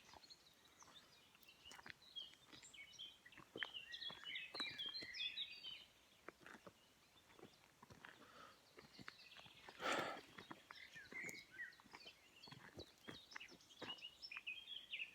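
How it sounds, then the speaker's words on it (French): Springtime birds chirping and calling, quiet and somewhat distant, with scattered bright twitters and trills over a near-silent background and a few soft clicks or steps. "les oiseaux sont très loquaces, hein, surtout au printemps"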